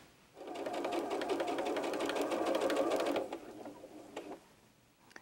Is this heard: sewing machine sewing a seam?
yes